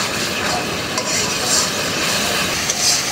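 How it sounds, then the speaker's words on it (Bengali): Spice masala with tomato paste fries loudly in a pan while being stirred, a dense, unbroken sizzle and bubbling hiss with faint scraping of the spoon, close by. "মশলাটা ভালো করে কষা নেব।"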